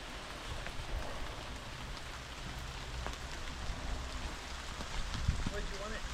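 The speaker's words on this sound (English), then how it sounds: "Oh, it's raining." Rain falling during road repair work on a green lane, a steady soft patter and hiss of drops on surfaces, moderately loud and continuous with faint occasional clinks of outdoor activity.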